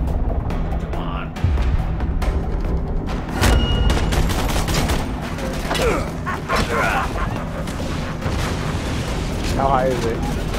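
Heavy gunfire in Borderlands 2, dense bursts of shots and booms layered with mechanical clatter, loud and continuous, with occasional enemy yelps mixed in.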